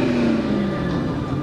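A 5.7 Hemi engine with JBA shorty headers idling or revving in a deep, steady, loud rumble with a continuous low throb and no breaks.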